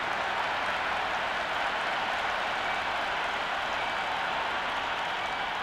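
A large cricket crowd at a T20 match between India and South Africa applauds and roars in a continuous, even wash of clapping and cheering, loud and sustained throughout.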